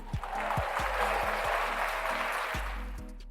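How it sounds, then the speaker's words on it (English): A group applauding together for a milestone during a motivational talk, a steady dense wash of clapping that holds loud through the whole stretch and eases slightly at the end, with a few low thumps underneath. "Let's give ourselves a round of applause first."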